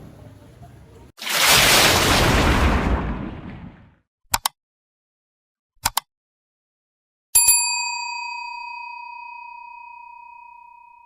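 A subscribe-and-notification-bell sound effect: a loud whoosh sweeps through, two short clicks follow in near silence, then a clear bell ding rings out and lingers with a long, steady tone.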